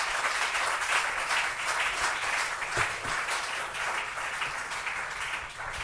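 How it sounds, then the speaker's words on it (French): A church congregation applauds in a sustained wash of many clapping hands, steady and fairly loud throughout, with a slight dip near the end. "On acclame encore le nom de Seigneur."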